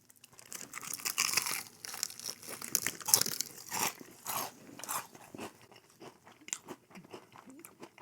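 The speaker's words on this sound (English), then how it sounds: "There's that crunch I was looking for." Crisp crunching and crackling as Popeyes fried chicken is bitten and chewed up close, a run of irregular loud crunches that thin out into quieter chewing.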